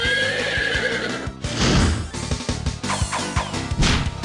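A loud horse whinny rings out in a video game, followed by a crash and hoof-like clatter, all close and dense like a staged sound effect.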